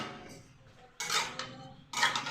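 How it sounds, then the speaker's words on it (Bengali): Bottle gourd curry with milk is stirred in a pot: a quiet start, then two sharp bursts of metal spoon scraping and clattering against the pot. "এখন এটাকে নেড়ে"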